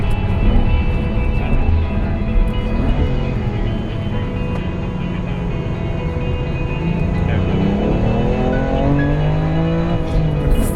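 BMW M3 Competition driven hard around a race track, engine roaring loud and continuous with rising and falling revs through gear changes, heard close from inside the car.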